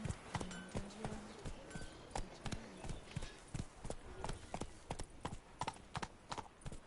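Roach, a horse in The Witcher game, galloping with quick, uneven hoof clip-clops that run throughout, moderately close, with a voice briefly heard at the start.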